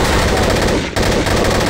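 Loud, continuous automatic gunfire rattles in a Garry's Mod Trouble in Terrorist Town round, rapid shots running nearly without pause and dipping for just a moment midway.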